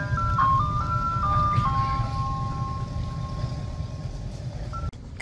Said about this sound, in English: That's literally an ice cream truck.